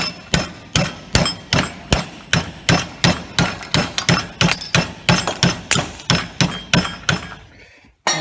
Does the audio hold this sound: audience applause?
no